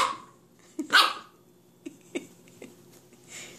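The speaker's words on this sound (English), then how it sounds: "Is that puppy barking at you? little growl there, too." A Scottish Terrier puppy lets out a few sharp, close barks, the loudest near the start, followed by scattered short yaps and a low growl in a quiet room.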